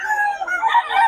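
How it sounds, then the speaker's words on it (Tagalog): Rooster crowing at a gamefowl market, one loud close crow stretching across the whole moment with another bird's call overlapping toward the end. "dami niya manok, oh."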